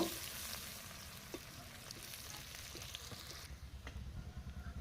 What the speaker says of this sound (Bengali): প্রথমে তেলের মধ্যে দেব আমি পেঁয়াজ কুচি দিয়ে অল্প একটু ভাজা ভাজা করে নেব